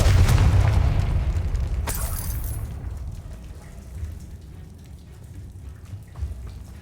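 The Confringo fire spell in Hogwarts Legacy goes off as a deep explosive boom with a sharp crack, then fades into a long crackling, rain-like rumble.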